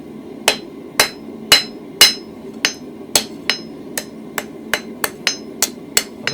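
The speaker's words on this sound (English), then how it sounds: "I'm going to lightly tap it, keeping it at an angle, and then they'll go together then" Hammer tapping hot metal while forging a toasting fork, a steady series of about fifteen sharp metallic strikes, louder at first and then lighter and quicker.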